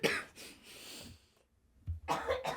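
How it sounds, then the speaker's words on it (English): An adult with a lingering cough lets out a short burst of rough coughing, then a pause and a second harsh cough, both close and clear with no talk. "I've had this cough forever."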